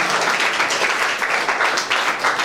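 A crowd applauds an honoured guest being draped with a shawl at a rice bag challenge event in Armoor, a dense, steady patter of many hands clapping with no one speaking.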